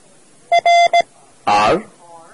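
A clear Morse code letter R: one short tone, one long tone, one short tone, crisp and mid-pitched, followed by a brief spoken voice.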